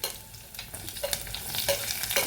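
Garlic, ginger and shallots sauté in a pan for a Kerala-style raw banana curry, giving a close, crackling sizzle broken by scraping stirs, with no talk.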